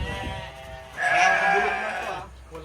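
Goats bleating on a farm, one loud drawn-out bleat at close range rising out of quieter background animal sounds, with another short bleat starting at the end.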